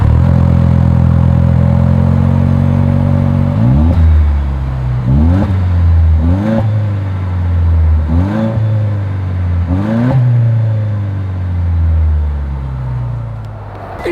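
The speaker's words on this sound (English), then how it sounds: "Here is that exhaust clip." A 2025 Toyota Land Cruiser's exhaust idles, then is blipped five times in quick succession, each rev a sharp rise and fall, close and loud, before settling back to a steady idle.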